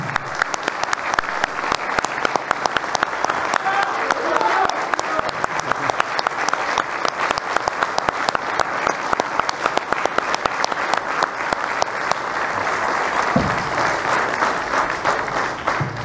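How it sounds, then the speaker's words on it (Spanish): Sustained, dense applause from a large standing audience at a book presentation, steady and loud throughout with no break. "nosotros lo vamos a aplaudir."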